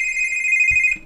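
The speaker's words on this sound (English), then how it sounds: "Audible notification provided." An audible alert from the Click and Chat web chat portal signals an incoming chat: a steady, bright electronic ringing tone holds for about a second and then cuts off, alone and loud.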